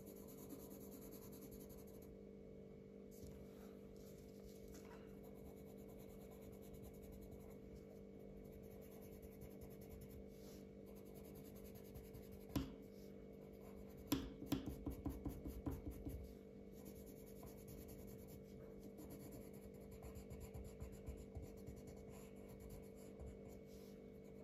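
Colored pencils rub and scratch across paper while flowers are colored in, a soft continuous scraping with brief bursts of quicker strokes, close and faint over a low steady room hum.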